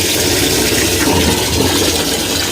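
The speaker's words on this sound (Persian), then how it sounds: "این آبیه که پمپ داره از داخل استخر میکشه." Water gushes steadily from a pump drawing from a pool in a greenhouse, a loud continuous hiss and splash with no pauses.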